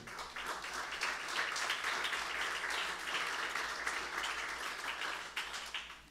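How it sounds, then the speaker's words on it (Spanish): A church congregation applauds together in sustained, dense clapping that holds steady for several seconds without pause. "No sé si alguien se anima a darle a Él un aplauso en este día"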